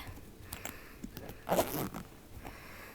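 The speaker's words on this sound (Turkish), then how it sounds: "çok kolay açılıyor fermuar sayesinde" A handbag zipper is drawn open in one quick rasping pull, close and fairly loud, preceded by a few soft handling rustles.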